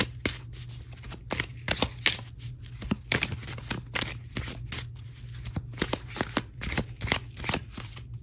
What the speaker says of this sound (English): So I do want to pull an oracle card here.